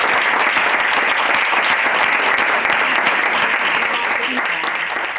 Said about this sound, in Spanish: acabar con un fuerte aplauso reconociendo la labor de todas esas instituciones